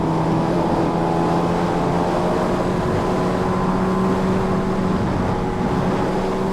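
A Kawasaki Ninja H2R motorcycle being ridden, its engine holding a loud, steady droning tone with faint rising harmonics throughout and no voices.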